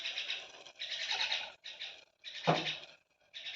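Myna birds call persistently around a home cooking area, giving bursts of harsh, chattering calls with brief pauses between them, moderately close and with no talking.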